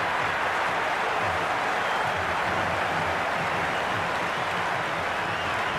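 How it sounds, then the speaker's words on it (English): A stadium crowd in the Cricket 26 video game, during an LSG vs DC IPL match, keeps up a dense, even roar of cheering and clapping at a constant level throughout. "It's the most enthusiastic crowd you could ever see right now. There's a buzz, a real buzz coming from the stands."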